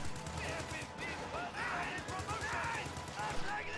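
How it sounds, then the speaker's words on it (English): A video game battle between grenadiers and riflemen carries scattered rifle shots and crackling gunfire, faint and distant beneath continuous talk. "Grenadiers falling low to rifleman fire."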